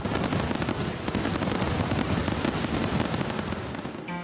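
Guy Fawkes Night fireworks burst in a dense, continuous crackle of rapid pops and bangs, loud and steady for a few seconds with no voices.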